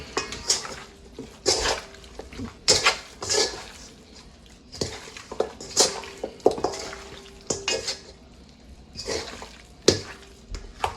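Pork chop ingredients being mixed in a pot while cooking over a wood fire, with repeated clanking and scraping of a utensil against the pot in uneven bursts, close and fairly loud, with no talking.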